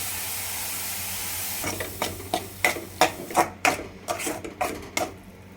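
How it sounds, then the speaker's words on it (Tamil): Mint paste being sautéed in a pan for mint rice: a soft sizzle with a run of sharp, regular scraping knocks of a spoon against the pan starting partway through, close and fairly loud. "வதங்கினதுக்கப்புறம் மின்ட் பேஸ்ட்டை போட்டு நல்லா வதக்கணும்"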